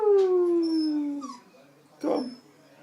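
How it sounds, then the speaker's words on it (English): Two dogs at the Bluebell Inn howl in a long, falling, loud note, then break into a brief whimpering yelp after a short pause; close and clear, no talk. "these two dogs think they're like"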